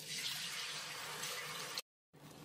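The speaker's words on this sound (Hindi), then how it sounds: "अब हम इसमें आधा गिलास पानी ऐड कर देंगे" Half a glass of water pours into a pan of spiced peanut masala for a drumstick sabji, a soft, steady splashing rush that cuts off abruptly and then resumes faintly.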